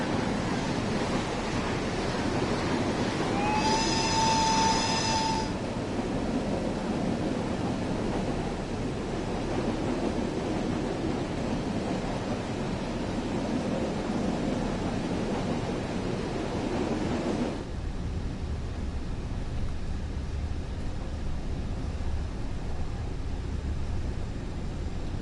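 Electric E94 locomotive running in Train Sim World 5, a steady broadband rumble and rush with a brief whistling tone near the start, continuous and fairly loud, dropping to a quieter low hum in the final stretch.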